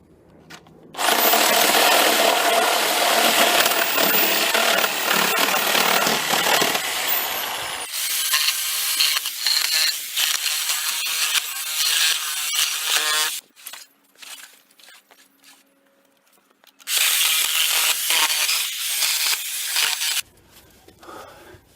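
A power tool cuts through nails to dismantle a wooden pallet, giving loud, harsh grinding bursts: one long run, then a choppier stretch, a near-silent pause, and a final short burst, close by with no talk.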